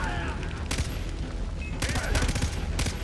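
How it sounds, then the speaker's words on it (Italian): Rapid bursts of gunfire in the shooter game Far Cry 3, several loud volleys firing close together in quick succession with continuous game noise underneath. "Quello sta sparando"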